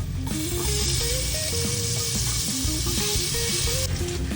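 Chopped tomatoes sizzling in a hot pan for a Kerala-style mutton curry, with a steady loud frying hiss throughout and a faint tonal hum underneath.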